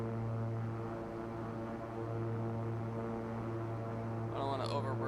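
Twin turboprop engines of a King Air C90B in X-Plane 11 hold a steady, droning hum with layered tonal whine, constant and fairly close, while a voice talks over it.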